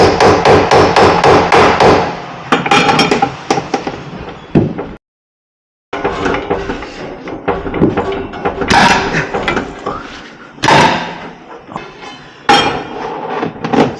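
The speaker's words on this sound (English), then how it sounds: "What if we hammer this in between, because that's completely out now" Metal-on-metal hammering on a tool driven in beside a Renault Master ball joint during removal, with repeated sharp close blows in bursts, a brief pause, then more strikes in a loud workshop setting.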